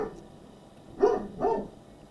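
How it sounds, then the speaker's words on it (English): Two muffled barks from pet dogs, coming in quick succession from somewhere nearby in a quiet room. "I'm sorry if you hear my dogs."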